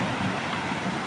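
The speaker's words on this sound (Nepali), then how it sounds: "सेरा खोलामा एकदमै व्यापक रूपमा बाढी आएको छ" Floodwater of the Sera river rushing in a broad, steady roar, loud and close with no break in the churning flow.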